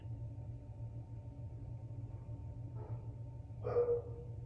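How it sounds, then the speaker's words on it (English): A dog gives a couple of short, muffled barks at a distance near the end, over a steady low indoor hum. "And then you hear the dog."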